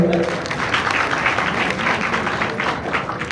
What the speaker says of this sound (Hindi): जरा अपने तालियां बजाएं भाई